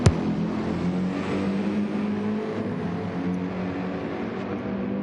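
Race car engines drone steadily in Gran Turismo 7 at Deep Forest Raceway, with a McLaren running on board; a continuous mid-level roar with shifting harmonics and a short sharp knock at the start, no voices.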